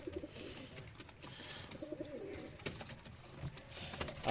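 Soft cooing of yellow-eyed pigeons murmurs repeatedly at close range in a breeding loft with eggs and chicks, layered over a low, busy background of rustling and shuffling.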